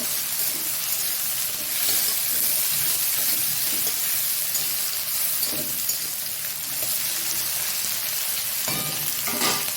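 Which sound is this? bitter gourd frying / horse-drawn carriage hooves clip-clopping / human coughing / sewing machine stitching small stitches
bitter gourd frying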